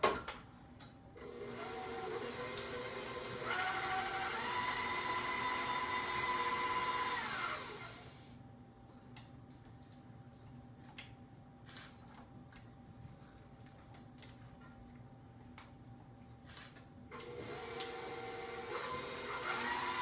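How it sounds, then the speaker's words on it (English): An electric mixer creams butter at medium speed, a steady whirring hum that stops for several seconds with faint clicks and then starts up again. "You're going to turn your mixer on a medium speed"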